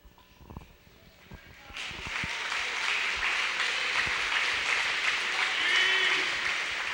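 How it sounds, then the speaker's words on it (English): A high school basketball crowd in the Smith Center gym, at the Redmen and Lady Red game against Logan, bursts into sustained applause after a brief moment of talk, with steady dense clapping and some cheering filling the room. "Stacy, give Stacy a big round of applause."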